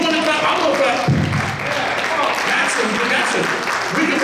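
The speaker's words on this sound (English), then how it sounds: "no, you don't want to clap, I'm going to clap" Applause and clapping from a church congregation, a steady dense wash of hands across the whole stretch, with voices mixed in underneath.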